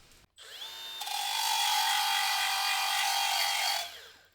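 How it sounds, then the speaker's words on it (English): An angle grinder shapes a metal part for a Honda chopper motorcycle. The whine spins up, holds a steady, bright, grinding tone at close range for a few seconds, then winds down. "I'll get it close to here with the grinder"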